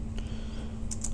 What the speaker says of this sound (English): type in the name, which I'm going to call mine Pear OS 7